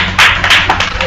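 A few sharp hand claps from a church gathering at an evangelism school in northern India, a short uneven burst close to the listener thanking a pastor.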